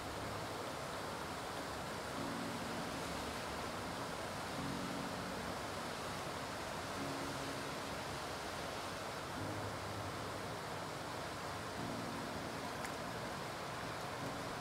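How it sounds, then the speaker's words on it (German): Small, shallow stretch of the Havel river near Kratzeburg babbling steadily, a continuous close wash of water with no voices over the whole stretch. "Klein und flach plätschert sie dahin"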